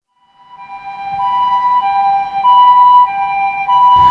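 A wailing ambulance siren rises in and holds steady, loud and close, with a harsh burst of noise at the very end.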